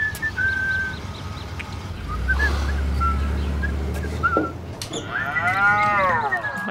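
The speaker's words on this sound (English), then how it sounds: "Oh my gosh, the moo when you open the door." A cow moo sound effect plays as a door opens in a film scene: one loud, long low moo, with bird-like whistles before it and a rising and falling whistle tone after.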